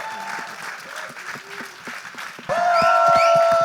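Applause from an audience, clapping steadily and swelling louder partway through, with a voice speaking over it and music starting up.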